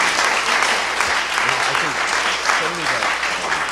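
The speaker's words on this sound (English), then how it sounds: "I will ask you to give a nice round of applause to our facilitators" Audience applause closing a transit panel session, a dense steady wash of clapping lasting throughout, with a few voices murmuring underneath.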